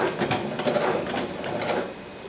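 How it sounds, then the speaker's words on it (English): A sewing machine runs a steady seam on a thermal window cover for an ice castle fish house, a continuous mechanical whir heard up close with no talking. "we're going to sew from this far edge straight down"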